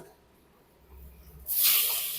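Chicken pieces dropped into a hot pan with cooked masala, bursting into a loud, close sizzle that starts suddenly and keeps hissing steadily after a quiet lead-in.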